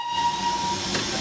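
A steam whistle on Terrier B662 Martello, heard from the footplate, sounds as a steady hissing tone with a strong steam hiss behind it and a brief burst of steam near the end.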